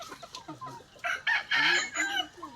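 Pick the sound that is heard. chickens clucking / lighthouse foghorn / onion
chickens clucking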